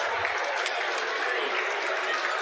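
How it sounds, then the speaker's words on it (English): A conference audience claps hands rapidly during a fast clapping game at a business event, a dense, even roar of many hands sustained throughout. "Clap your hands."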